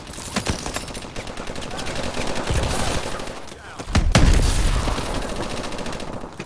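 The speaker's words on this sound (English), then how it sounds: "gonna test the shotgun's capabilities" Shotgun blasts in Call of Duty: Advanced Warfare, with loud booming shots, the heaviest near the middle, amid continuous gunfire and game noise.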